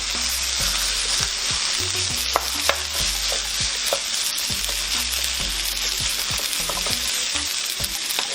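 Rice for nasi goreng is stir-fried with zucchini in a hot pan, giving a constant close sizzle broken by repeated scrapes and taps of the spatula as it is broken up and tossed.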